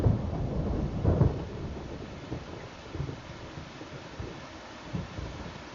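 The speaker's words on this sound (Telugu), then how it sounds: "అది చెమట కాదు, వర్షం వచ్చినట్టుంది." Rain and thunder in a typhoon scene from a Doraemon cartoon: heavy low rumbles roll in near the start and again around the first second, then settle into a steady bed of rainfall with fainter swells. No one speaks.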